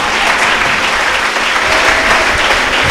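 A church congregation at a French-language evangelical service applauds in a steady, dense roar of many hands that lasts the whole moment at a loud, even level, with no voices standing out.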